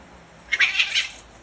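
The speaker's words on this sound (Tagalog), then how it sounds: "Ikaw malandi kang pusa, hindi ka na umuwi." A single short, high cat meow rings out clearly, close by, against a faint background hiss.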